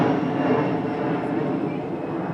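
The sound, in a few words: airplane flying overhead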